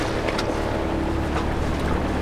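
Twin engines on a sailing catamaran idling steadily at anchor during storm preparation, a low continuous rumble under wind noise across the microphone, with no talk.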